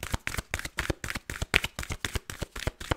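Tarot cards being shuffled close by, a quick even run of soft riffling slaps repeating about five times a second, with no talk.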